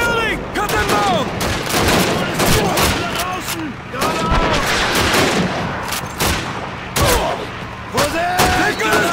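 Gunfire in the World War II shooter Call of Duty 2 rattles almost nonstop, dense rifle and machine-gun bursts near and loud, with soldiers shouting over the battle.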